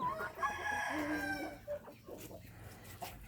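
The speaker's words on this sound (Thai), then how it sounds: "นี่ไก่รุ่น" Several chickens cluck and a young rooster gives a scratchy crow, nearby and fairly quiet, with other birds faintly in the background.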